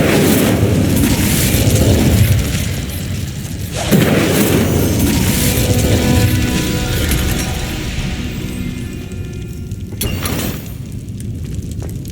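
An Incendio fire spell is cast in Hogwarts Legacy, a loud whooshing burst with crackling roar that rises, cuts off, then flares again with a second sharp blast near the end.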